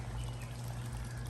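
Water flowing and splashing through a koi pond filter outdoors, a soft continuous trickling rush over a low steady hum, fairly quiet and uninterrupted.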